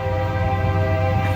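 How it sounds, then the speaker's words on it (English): A train passes near 7th Avenue in Ardmore, a loud, steady, low rumble with a sustained droning horn-like tone held throughout. "there's the train going through at just the right time"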